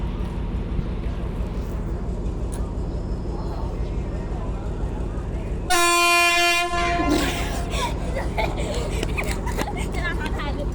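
Train 252 departs Photharam station in Thailand: steady low rumble, then a loud harmonic horn blast of about a second, followed by rolling clatter. A station announcement plays over the noise.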